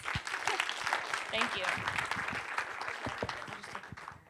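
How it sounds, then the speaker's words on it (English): Audience at a talk on trustworthy information in the AI age applauds as a speaker takes the stage, a moderate, fairly distant patter of clapping with a voice briefly speaking over it. "We can give her a round of applause."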